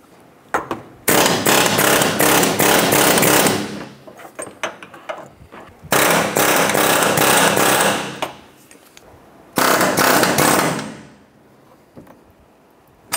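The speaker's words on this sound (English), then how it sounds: "we used our air hammer or air chisel to roll back the flange around the mount itself" Three long bursts of loud, rapid pneumatic air hammer chiseling on a metal subframe flange around a bushing mount on a 2006-2013 Chevrolet Impala, each lasting a few seconds, separated by short pauses with lighter clinks.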